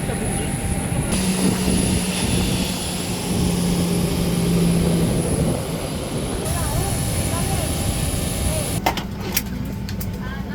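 Steady, loud drone of a propeller airliner cabin on a domestic flight in Greece bound for Santorini, droning on evenly throughout with faint voices murmuring beneath it.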